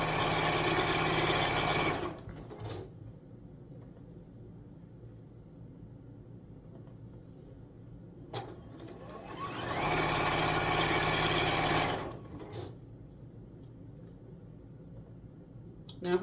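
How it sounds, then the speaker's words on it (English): A sewing machine stitches across the corners of snowman quilt border blocks, humming loudly and steadily in two separate runs with a quiet pause between them. "and sewing across the corner."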